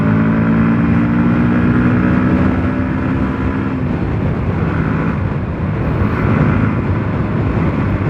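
A Bajaj NS160 BS6 motorcycle with a modified stock exhaust idles and runs close by, giving a loud, steady, throaty drone with a low rumble throughout and slight shifts in pitch, and no speech.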